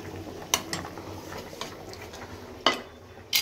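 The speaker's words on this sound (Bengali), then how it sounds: "মসুরির ডালটা ফোড়ন দিচ্ছি।" Masoor lentils being tempered in a pan in a home kitchen: a faint sizzle runs underneath a few sharp clinks of a utensil against the pan.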